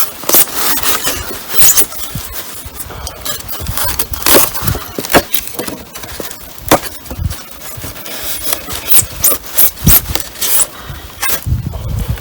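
Harsh, irregular bursts of sawing or cutting into hard material, with sharp crackling strokes and splintering squeals repeating for several seconds, loud and close.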